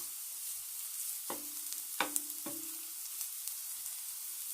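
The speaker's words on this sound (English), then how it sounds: "So now that the onions are cooking away" Onions and garlic fry in a pan, a steady close sizzle with a few stirring scrapes and knocks rising over it, and no voices.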